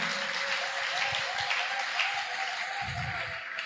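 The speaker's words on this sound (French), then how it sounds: "Betela Yesu maboko makasi." A church congregation claps in praise during a worship service, steady dense applause holding throughout at moderate distance, fairly quiet overall.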